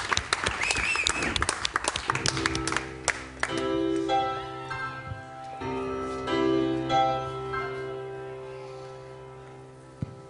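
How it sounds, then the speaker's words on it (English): A studio audience on a morning TV show claps loudly for a tribute band, the applause thinning out after about three seconds as sustained piano-like music notes take over and ring on. "Give them a round of applause"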